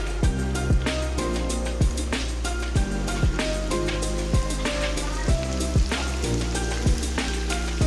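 Spicy chicken snack pieces fry loudly in a pan, a dense close sizzle with repeated clinks and scrapes from turning the pieces in a steady rhythm throughout.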